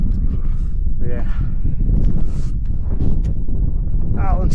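Strong gale-force wind on a mountain ridge buffets a small Insta360 X4 camera's microphone, which has stick-on wind muffs. Loud, uneven rumbling gusts run throughout, under a person talking.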